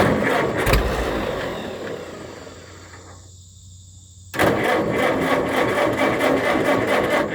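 A tractor engine cranks and rumbles unevenly, dies down briefly, then catches and settles into a steady, loud running chug nearby.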